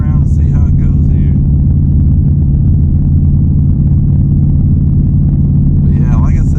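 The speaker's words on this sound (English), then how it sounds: "We're gonna drive for a little bit, get a little bit of gas." Interior of an S550 Mustang cruising after a driver-side halfshaft install, a steady low engine and road rumble throughout, with a voice talking over it at the start and end.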